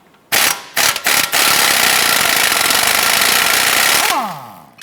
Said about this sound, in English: We're going to put our wrench on the front.